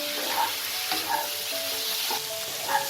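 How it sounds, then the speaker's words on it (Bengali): Potato and raw jackfruit fry with spices in a pan, giving a steady close sizzle with gentle scraping strokes of a spoon stirring the mix every half second or so. "দিয়ে এই আলু এঁচোড়ের সাথে মশলাটাকেও খুব ভালো করে মিশিয়ে নেব"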